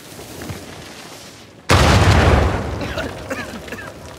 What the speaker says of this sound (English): Now we know what caused the explosion.